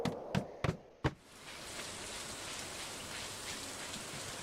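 Soft steady rainfall hiss in the Stardew Valley video game, continuous after a few sharp knocks at the start, no talk.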